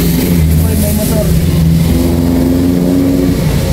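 A motorcycle engine drones loud and steady as it passes close by, a continuous rumble that dominates the whole stretch.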